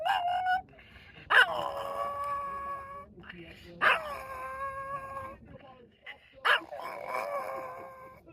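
Winston Arthur, a dog in the Quartzsite Arizona desert, gives long wavering howls, three drawn-out rising calls close by with brief gaps between them.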